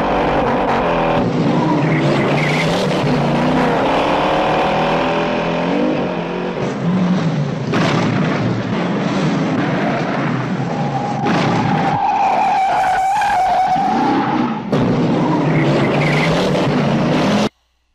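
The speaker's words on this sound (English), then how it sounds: "watch this quick scene from Bullet and watch the cars as they make some high-speed turns" High-speed car chase from the film Bullitt, with cars skidding through fast turns: loud, continuous engine roar and screeching tire squeals rising and falling across the whole stretch, with no talking.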